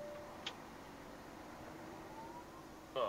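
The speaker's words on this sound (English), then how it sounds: "That's a siren, where's he coming from?" A distant ambulance siren wails faintly beneath steady traffic noise heard from a truck, its tone slowly rising, with a sharp click near the start and louder noise at the end.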